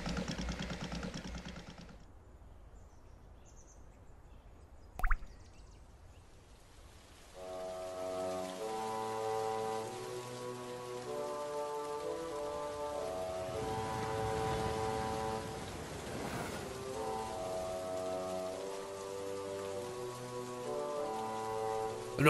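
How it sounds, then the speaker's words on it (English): Rain falls steadily as a soft continuous patter, faint at first, then fuller under a musical score with a brief sharp knock partway through; no voices. "In all this rain"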